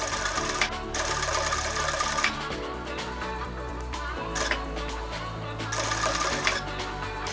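A sewing machine stitches a polo shirt in bursts, fast steady whirring runs broken by short pauses and light clicks, close and moderately loud.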